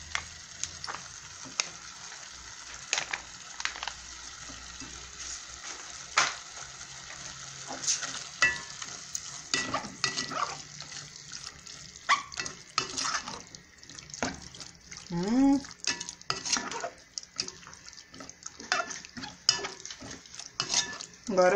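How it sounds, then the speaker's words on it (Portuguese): Chicken stroganoff is stirred in a frying pan after tomato paste goes in, giving a sizzling fry with repeated scraping and clinking of the utensil against the pan, close and steady throughout. "Dá uma mexida."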